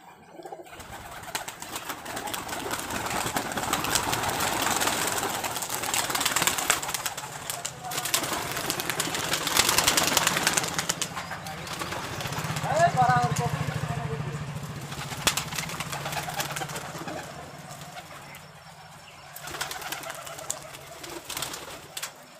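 Giribaj pigeons at a home loft in Rajshahi coo softly at a distance under a voice talking in Bengali, with a low engine hum passing partway through and faint outdoor ambience throughout.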